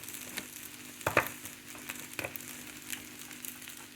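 Rice frying in butter in a pan gives a steady soft sizzle, broken by a few sharp scraping and stirring clicks close by.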